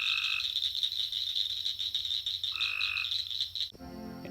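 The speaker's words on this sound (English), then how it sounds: "I am near a pond, and the frogs are very loud." Loud frogs call at a pond at night in a dense, pulsing chorus with rhythmic croaks repeating, then the sound shifts abruptly near the end to a different scene.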